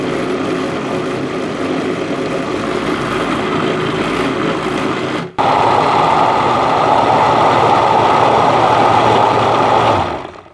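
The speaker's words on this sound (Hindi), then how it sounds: "अब इसको ग्राइंडर में पीस लें।" An electric grinder purees cooked tomatoes with a loud, steady whirring roar that cuts out briefly midway, then starts again and runs on before stopping. No one speaks.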